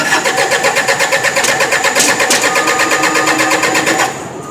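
An old forklift engine cranks with a loud, rapid, rhythmic starter chug for about four seconds, then the cranking cuts off near the end without a clear catch into idle.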